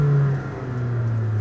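Ferrari 458 Speciale engine blipping close up: a loud, brief rev with a strong low tone that dips and then settles into a steady higher note, with no talk.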